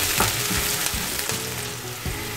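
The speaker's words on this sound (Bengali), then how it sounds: "পাঁচফোড়নটা দিয়েই এই পেঁয়াজটাকে ভালো মতো একটু ভেজে নিতে হবে।" Onions frying in oil with a half teaspoon of panch phoron for samosa filling, a steady close sizzle with occasional scraping stirs, no talking.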